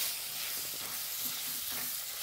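Tomatoes are mashed while sautéing in a pan for a chura curry, giving a continuous sizzling hiss with soft scraping and squelching under it. There is no talking.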